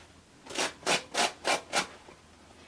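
A denim jean hem is rubbed with an abrasive to fray and distress it, giving five rhythmic scraping strokes close up, evenly spaced, then quiet.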